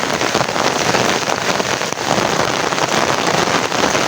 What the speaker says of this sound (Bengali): বৃষ্টিও হালকা হালকা পড়তেছে, হালকা বলতে মোটামুটি ভাবে পড়তেছে বৃষ্টি